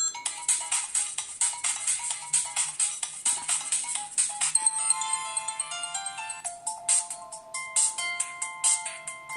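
A new mobile phone plays a ringtone: a loud, bright electronic melody of quick repeated pulsing notes, shifting to a sustained tonal phrase midway, then resuming rapid beeps, with no talking.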